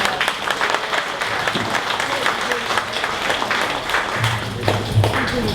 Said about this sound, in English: One more round of applause for Saint Vincent de Paul.